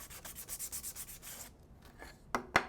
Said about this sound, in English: the peacock is dry, and then I'm just taking medium grit sandpaper.